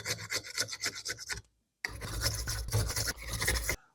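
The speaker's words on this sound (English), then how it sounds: "the scraping off of the old tape is the hardest, slowest part" A scraper strips old tape off a golf club shaft in quick rhythmic rasping strokes, then pauses briefly and resumes with harder continuous scraping, close and loud.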